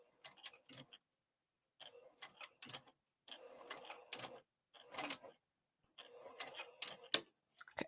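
A sewing machine top-stitches a crossbody bag exterior at a long stitch length, running in short quiet bursts of rapid mechanical ticking separated by pauses.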